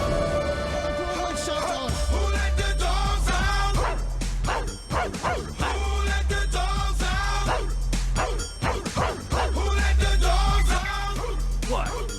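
A song plays loudly, as sung by an alien-control agent's dog partner in a sci-fi film, its thumping beat and chanted vocals punctuated by repeated barking "woof" calls.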